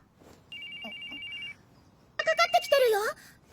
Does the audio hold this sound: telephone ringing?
yes